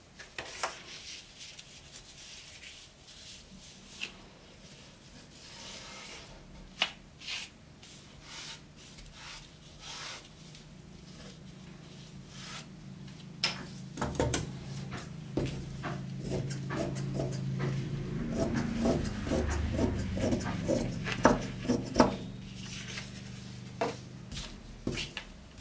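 Blouse fabric is cut for a cross strip, with quiet scraping and rubbing strokes that grow denser and louder in the second half, close and faint, with no talking.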